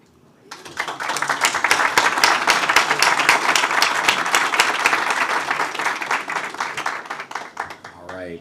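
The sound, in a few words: audience applause for Teachers of the Year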